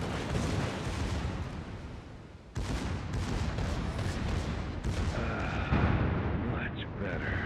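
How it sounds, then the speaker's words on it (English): Secondary battery guns blaze from the Friedrich der Große, a Tier IX German battleship in World of Warships, a dense, continuous barrage of booming shots rolling together with sharp fresh volleys breaking in partway through. "Now feel the firepower of this fully armed and operational secondary battleship."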